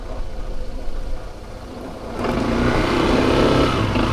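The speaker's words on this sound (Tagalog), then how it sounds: "Yung ating motor, hindi po siya pang off-road" A motorcycle engine idles roughly beside a rocky river, then revs up sharply about halfway through and holds a louder, steady growl.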